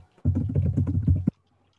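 Fingers type on a computer keyboard in a short quick burst of about a dozen close key clicks lasting around a second, with silence before and after.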